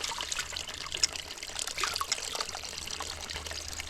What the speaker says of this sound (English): Okay, so turn the water back on.